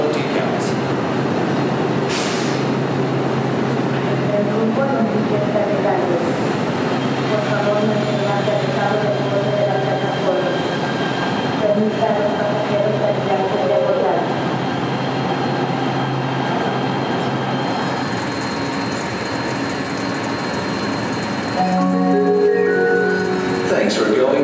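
An LA Metro Rail subway train hums and rumbles steadily in a station, with tonal motor whines rising and falling. A recorded announcement voice speaks over it for much of the clip.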